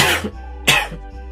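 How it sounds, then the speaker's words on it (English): Two sharp coughs about half a second apart, close and fairly loud, over a low steady hum. "Damn it, cough."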